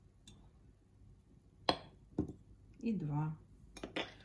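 A spoon clinks against a cup or glass while a homemade cough remedy mixed with hot water is stirred, giving a few sharp taps and scrapes close by, with a short spoken word between them.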